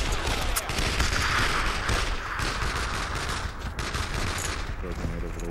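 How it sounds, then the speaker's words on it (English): Sustained machine gun fire and scattered rifle shots in the Brothers in Arms World War II shooter, a dense, continuous fusillade of bursts filling the whole stretch at close-to-mid range with no pause. "That machine gun's opening up."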